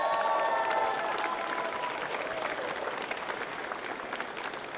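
A team in the crowd at a FIRST Robotics district competition opening ceremony cheers loudly for one of its members, with sustained applause and voices that stay steady and fairly loud, fading slightly over several seconds.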